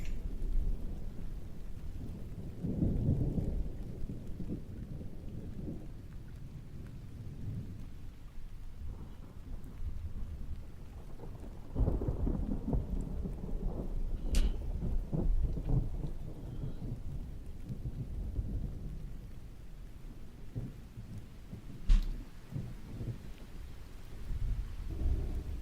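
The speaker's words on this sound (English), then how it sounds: "And it's been raining nonstop by me." Steady rain with low rumbles of thunder during a storm, the roll swelling and fading over the stretch with no voices.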